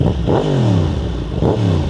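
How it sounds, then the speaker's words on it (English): A Yamaha MT-10 motorcycle with a Crossplane four-cylinder engine from the R1 revs hard twice, loud and close, its pitch sweeping up and down between blips. "This bike is powered by Yamaha's Crossplane 4, which is the same engine that's on the infamous R1"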